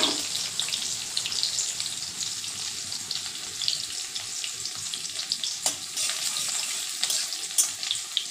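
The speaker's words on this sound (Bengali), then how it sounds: "লাল লাল করে ভেজে নেব" Dried red chillies, five-spice seeds, chopped onion and garlic frying in oil, a steady close sizzle with crackling bursts running the whole way through, no voices.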